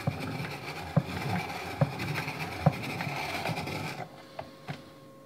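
A meat slicing machine cuts a cured pork loin into even bacon rashers, with a steady mechanical whirr punctuated by regular thuds of the blade about once a second, close and moderately loud, then easing off near the end.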